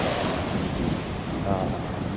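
Ocean waves wash against a rocky shore at a Shimane coastal stop, a continuous broad roar of surf mixed with wind buffeting the microphone, steady and fairly close.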